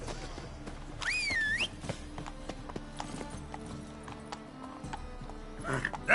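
Roach the horse in The Witcher 3 game, with steady rhythmic hoofbeats and a bright whinny near the start, plus a brief voice later on.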